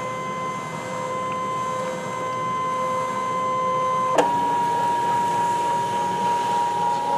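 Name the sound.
Brother ScanNCut cutting machine scanning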